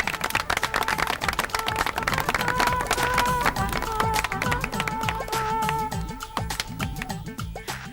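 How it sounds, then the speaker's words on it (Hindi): Audience clapping at a stage event in a Pakistani comedy sitcom, lively continuous applause with a crowd murmur and background music underneath. "तालियां।"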